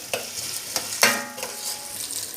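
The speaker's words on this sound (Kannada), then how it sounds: "ಇತ್ತೆ ಒಂಜಿ ಕಡಾಯಿದಿಕ್ಕ ಐಕೊಂತ ಎಣ್ಣೆ ಪಾಡ್ಗ, ಕರಿಬೇವು ಪಾಡ್ಗ ಫಸ್ಟ್, ಇತ್ತೆ ನೀರುಳ್ಳಿ ಪಾಡ್ಗ" Onions and curry leaves fry in hot oil in a kadai, a steady bright sizzle broken by a few sharp spatula scrapes and clinks as they are stirred, close and alone without voices.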